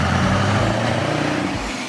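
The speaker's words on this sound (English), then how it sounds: "Delivery trucks are used for transporting goods from distribution centers or stores to customers." Delivery truck idling nearby with a steady low engine rumble and broadband hiss like air brake release, loud and continuous for a couple of seconds.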